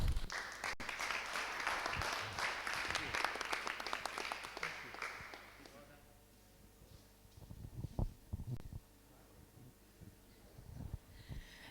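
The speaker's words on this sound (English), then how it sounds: "Again, a big round of applause" A small meetup audience claps in a lively burst of applause that fades out after about five seconds, followed by quieter room sounds, shuffling and a few scattered noises.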